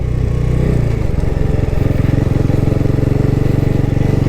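A 2024 Bajaj NS400z motorcycle engine thrums at low speed in second gear under 30, a loud close steady low pulsing rumble that settles into an even rapid beat after a slight shift early on.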